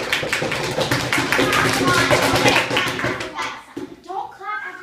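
Children clapping in a classroom during a water pollution lesson, a burst of quick overlapping claps that fades out, with voices talking over and after it.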